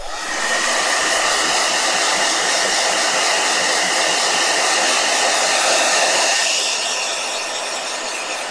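A blow dryer runs with a loud, steady airy roar that holds for several seconds and then eases slightly in pitch and level near the end, with no talk over it.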